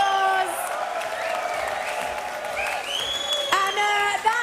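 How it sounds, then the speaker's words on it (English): An audience at a chessboxing show applauds steadily throughout, with dense clapping mixed with cheers and voices, and a few whoops rising near the end. "Give him another massive round of applause"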